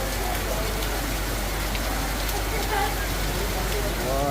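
Steady, dense rain pours down close by in a hot summer setting, a continuous hiss with a faint voice near the end.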